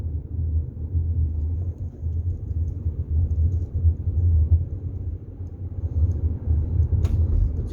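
A car driving along a main road past shopping malls in Lynnwood, Washington, gives a steady low rumble of engine and tyre noise from inside the cabin, continuous with no talking.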